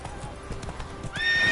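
The horse Roach gallops in The Witcher 3, hooves clopping in a quick rhythm over rain, and then lets out a bright, rising neigh at the close.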